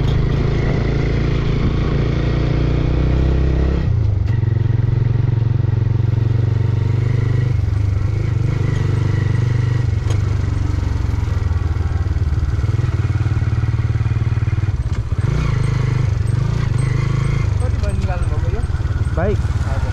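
A motorcycle is ridden along a road, its engine a steady, loud low drone that lasts throughout under almost continuous conversation between riders.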